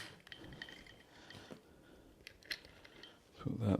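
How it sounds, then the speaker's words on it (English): A metal bolt being pushed through the frame of a cheese press during assembly, giving faint clicks and ratcheting scrapes with a louder knock at the end, close by in a quiet room. "Put the bolt through."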